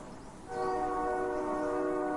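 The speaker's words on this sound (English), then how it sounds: "I hear a distant train whistle." A distant train whistle in a dark video game sounds as a sustained, harmonic horn tone that swells in after a quiet moment and holds steady over low ambient rumble, with no talk.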